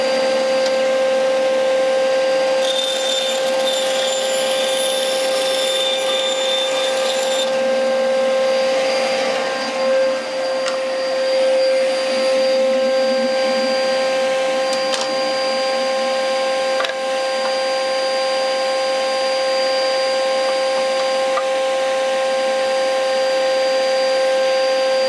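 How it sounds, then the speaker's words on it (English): A power saw cutting wooden planks gives a loud, continuous whining drone with steady tonal hum that holds for the whole stretch, with a brighter rasp early on as the blade bites the wood. "Okay, so we've cut all our bits of wood"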